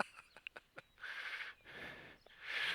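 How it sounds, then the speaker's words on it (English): Birds calling outdoors near a crowd, a few short chirps followed by longer, louder calls at moderate distance. "There's some birds over there."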